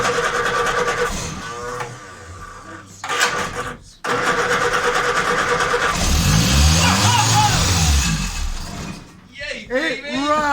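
An old Morris Minor van's engine cranks, coughs and catches, then runs unevenly with rising revs, while people nearby talk and cheer excitedly over it.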